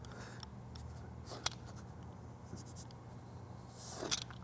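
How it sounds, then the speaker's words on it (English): A sharp knife slices through craft foam for a helmet, giving soft, quiet scratchy drags with two brief crisp strokes standing out against a low steady background hum. "You can do every single cut on this using only a sharp knife, just like that."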